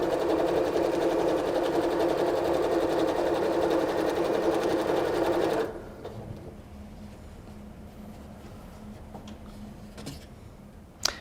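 A sewing machine stitches quilt rows together, a loud steady close whir for about five and a half seconds, then stops, leaving faint handling noises and a sharp click at the end.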